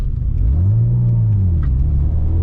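Subaru SVX car engine revs loudly from inside while driving, the low drone rising and then falling as gears shift between fourth and fifth, steady and close.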